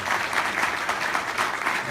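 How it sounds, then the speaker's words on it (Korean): A lecture audience gives warm, dense applause to welcome a professor onstage, a continuous even wash of many hands clapping at steady volume with no speech over it. "우리 이한주 교수님 뜨거운 박수로 말씀 듣도록 하겠습니다"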